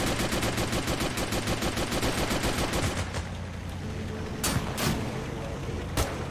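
Gunfire in the modern military shooter Total Conflict: a rapid automatic burst hammers steadily for about three seconds, then two sharp single rifle shots ring out.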